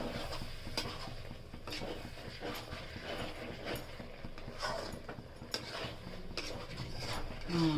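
Curry of bera kai (aloo bompa vegetable) being stirred with a little added water in a pan, a steady scraping and clinking of the spoon against the metal with soft wet sizzle underneath, continuous and close.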